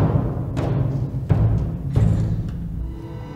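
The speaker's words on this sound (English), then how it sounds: "I had no idea that one could produce sounds like this on bass drum." Deep booming orchestral bass drum strokes, three soft felt-covered mallet hits with low rumbling resonance that sustains and swells between them.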